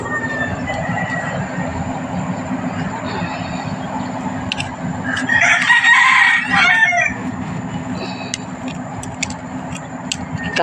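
A rooster crows once loudly around the middle, its strained call standing out over a constant low rumble and hum, with faint clatter and distant sounds around.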